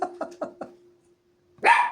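A small female dog lets out a quick series of four sharp barks, then a pause and one louder, fuller bark, close and with no voices.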